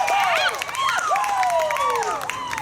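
A cheering section whoops and applauds for a graduating senior trombone player at a band concert, with rising and falling vocal cheers over steady clapping throughout.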